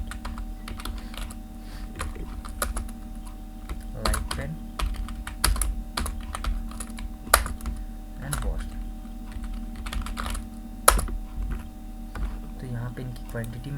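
Keys clatter on a computer keyboard in uneven bursts of quick taps with short pauses, close and clear over a faint steady hum, and a few louder single strokes stand out.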